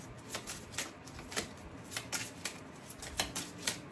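Tarot cards being shuffled by hand during a reading: a run of quick, papery riffles and soft slaps in an irregular rhythm, close but fairly quiet, with no talking.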